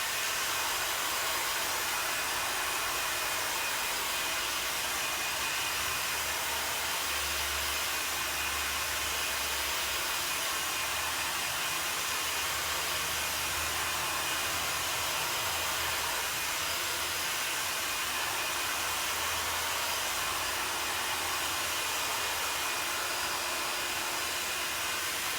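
A hair dryer blows steadily to dry a freshly applied colour coat, a loud, continuous airy rush that runs unbroken and alone for the whole stretch, with no voices over it.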